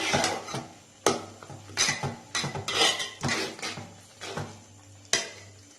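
Metal utensil scraping and knocking against a pot of green gram and vermicelli payasam in irregular strokes, close up, with a low hum in the background.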